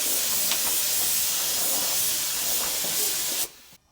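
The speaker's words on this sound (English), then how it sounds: "I'm gonna go ahead and squirt on some octane blue paint on all the necessary areas." Octane blue spray paint hisses steadily from a can onto the interior of a totaled Final Edition Evo during its rebuild, a close, continuous spray that stops abruptly near the end.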